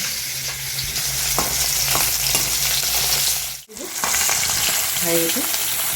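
Pangas fish frying in a pan gives off a loud, steady sizzle with a few soft stirring knocks, broken by a brief near-silent dip midway before the crackle resumes.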